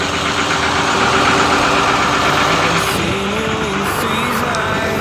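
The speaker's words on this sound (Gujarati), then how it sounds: "તમને થોડોક અવાજ આપણો ઓછો આવે કેમ કે એન્જિન ચાલુ છે," An engine on a fishing boat at sea runs loud and close, holding a steady drone with constant tone for the whole stretch.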